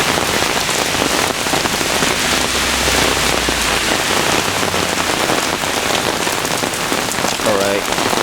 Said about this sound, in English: I'm filming a thunderstorm.